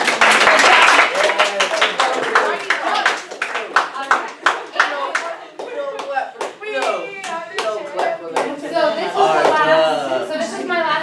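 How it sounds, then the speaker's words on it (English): A classroom group claps for a team, starting as a loud burst and breaking into scattered, uneven hand claps while children chatter and talk over it throughout. "So we'll give a round of applause for this team."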